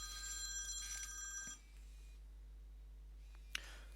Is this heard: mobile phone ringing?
yes